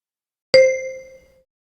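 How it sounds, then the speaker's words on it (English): A single clear bell ding in a language lesson rings out once in silence, its bright tone lingering and fading over about a second. "Wait for the bell and then repeat."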